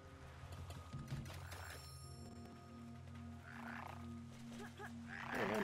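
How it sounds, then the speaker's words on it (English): A frog croaks in the video game The Unfinished Swan, several soft croaks spaced across the clip over a low ambient game hum and music tones, with no talking. "The frog's back."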